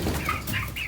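Brahma chickens with feathered feet cluck softly and briefly at close range, a few short low calls over a steady bed of background noise.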